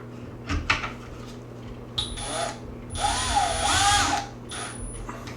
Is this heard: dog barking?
no